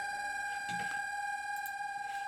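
A synth patch from an Arturia Jupiter 8 software synth with a Crush effect and RC48 reverb holds steady, bright sustained tones, quiet and alone.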